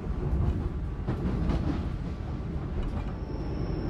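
KA Ranggajati economy passenger train rolling along the rails near Surabaya Gubeng, a steady loud rumble of wheels and carriage heard from inside, with a faint high tone entering near the end.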